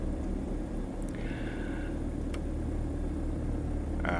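Twin engines of a Diamond DA-62 in the X-Plane 12 flight simulator, a steady, loud, car-like droning hum that runs continuously throughout, with faint higher tones flickering above it.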